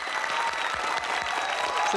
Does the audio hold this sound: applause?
yes